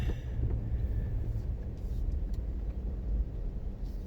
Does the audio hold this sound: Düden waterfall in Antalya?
no